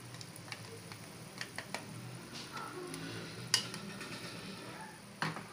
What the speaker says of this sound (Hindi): अब हम इसमें डालेंगे प्याज और दही का मिक्सचर।